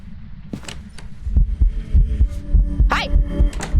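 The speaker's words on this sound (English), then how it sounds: "The heartbeat sound is too loud, so I can never understand it." Thumping heartbeat from the horror game Phasmophobia pulses in a steady double-beat rhythm, loud and close, with faint game sounds layered above.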